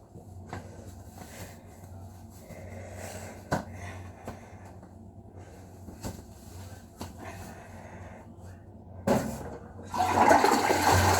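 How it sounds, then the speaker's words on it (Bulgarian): A household toilet flushing, the rush of water starting loud near the end after a quieter stretch of scattered bathroom sounds. "Винаги спускайте водата, хора"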